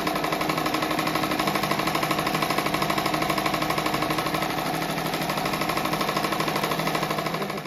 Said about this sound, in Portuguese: Vou passar uma costura em toda a volta dele para depois ser cortado.